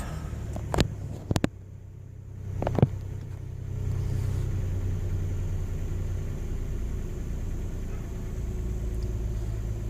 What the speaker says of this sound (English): let's go ahead and start it up, turn the key off, focus, and let's crank her over and see what we get